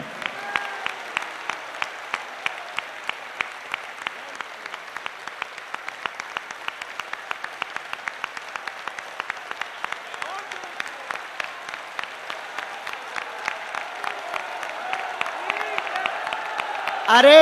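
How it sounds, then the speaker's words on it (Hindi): A crowd at a religious gathering claps rhythmically in unison, sharp regular beats repeating steadily for over sixteen seconds at moderate loudness, with a voice rising briefly at the very end. "कम से कम 1 मिनट तक आपकी ताली बजनी चाहिए"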